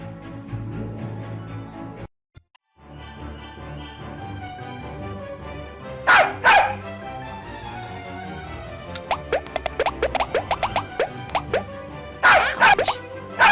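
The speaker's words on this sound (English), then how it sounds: "capture that stupid bubble-burping dog" A cartoonish dog in the Nancy Drew Dossier: Resorting to Danger game gives a few short plopping, bubbly yips in clusters over a steady game music backdrop, with a brief silent gap near the start.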